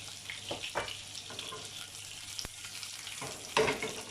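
Bay leaf and cumin seeds fry in oil and butter for a mushroom tikka masala, giving a soft, steady sizzle with a few sharp crackles and a louder burst of spitting near the end.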